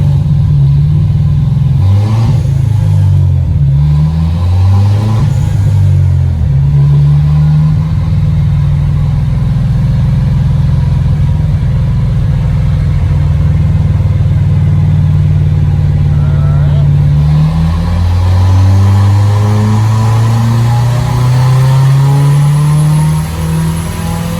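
A turbocharged Starquest car engine revs loud and close under boost, its pitch climbing and falling in repeated sweeps throughout, with some talking under the engine roar.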